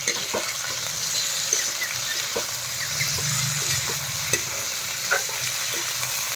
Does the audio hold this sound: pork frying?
yes